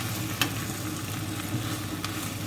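Potato and leek soup simmering in a pot, a low steady bubbling hiss with a couple of soft spoon knocks as it is stirred, close and gentle.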